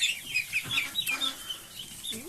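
Several chickens cluck softly and irregularly in Poland, with short high calls scattered over a low background of farmyard noise.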